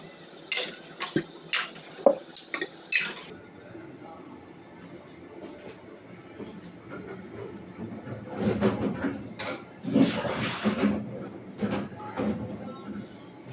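Glass bottles prepared for preserving tomato purée clink and knock sharply in several quick bursts early on, followed by softer rattling and handling clatter. The sounds come up close in a kitchen while a person speaks in between.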